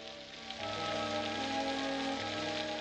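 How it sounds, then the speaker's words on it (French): Steady cartoon rain patters down in a dense, continuous hiss that swells in after a quieter opening, with faint tonal music or background sounds running underneath. "Il pleut."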